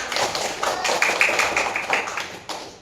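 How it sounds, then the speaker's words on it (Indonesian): A classroom of children clapping hands together, a dense patter of many claps running for a few seconds at moderate level, with a brief tonal voice or squeak mixed in. "tepuk tangan untuk kita semua"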